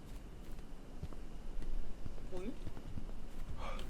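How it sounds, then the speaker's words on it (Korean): Footsteps sound in a video game as a series of soft, irregular thumps. Players talk over them. "발소리 들린다"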